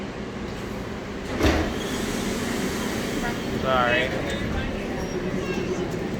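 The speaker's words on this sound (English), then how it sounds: "I'm gonna hop off this train." Denver Airport's automated terminal-to-concourse train rumbles steadily at moderate level with a brief clunk and a short squealing whine of wheels or brakes, while a person speaks briefly over the constant cabin hum.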